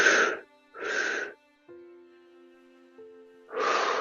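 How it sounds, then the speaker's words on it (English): Deep, airy breaths during a guided breathing exercise come in three broad whooshing waves, with a steady low tone humming softly in the gap between them. "breathing in"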